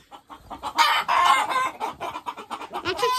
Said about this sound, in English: That's what chickens like to do.